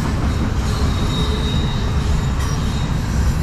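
A train rolling past a railroad crossing, loud and close, with a steady rumble of wheels on rails and faint squealing throughout, no voices.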